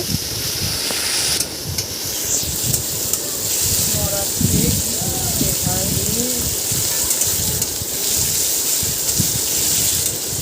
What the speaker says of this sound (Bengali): রসুনটা আর পেঁয়াজটা একটু ভাজা ভাজা করে নেব।